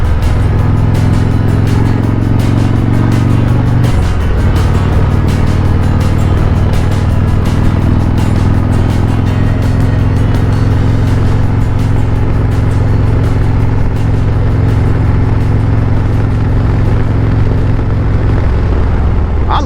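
Harley-Davidson Road Glide motorcycle cruising Tennessee backroads, a loud, continuous close-up engine rumble mixed with wind rush, the pitch dropping briefly early on before settling into a steady drone.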